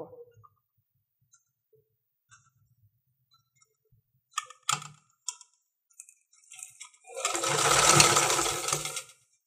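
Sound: sewing machine stitching shirt collar onto kameez body

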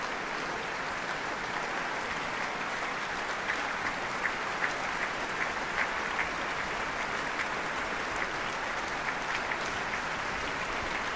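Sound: concert audience applauding violinist

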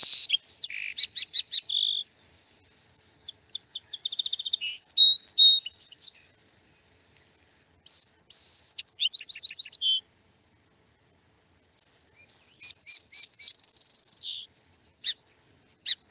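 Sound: song sparrow singing in spring

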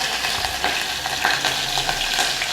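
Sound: garlic-ginger paste and green chillies sizzling in hot oil

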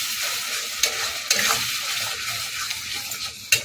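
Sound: stirring spinach tarka frying in a pan

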